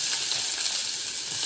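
Cumin seeds (jeera) with ginger garlic paste sizzling in hot oil, a steady dense hiss that stays loud and even throughout with no talk.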